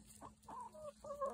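Chickens on a farm with mixed Jersey birds give a few short clucks in quick succession, close by and moderately loud over a low steady background hum.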